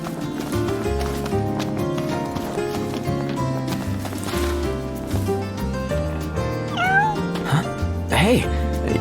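Cat meowing in the Final Fantasy 15 video game, a few short rising mews heard near the end over background music and game sounds.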